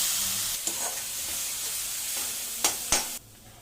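Ground coriander paste dropped into hot oil already tempered with mustard seeds, chana dal and dried red chillies, frying in a strong, steady sizzle with a few stirring scrapes, close up and with no talking.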